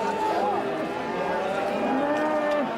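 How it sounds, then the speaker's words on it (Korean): Loud, drawn-out lowing of cattle at a busy livestock market in Toegye-dong, Chuncheon, with overlapping moos close by. "우시장이 열리는 날이면 퇴계동 일대는 새벽부터 우렁찬 소 울음소리로 가득했는데요."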